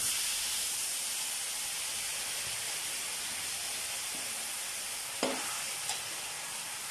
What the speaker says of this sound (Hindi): ये देखें कढ़ाई चूल्हे पे चढ़ा दी है मैंने। अब इसमें मैं मलाई डाल दूंगी।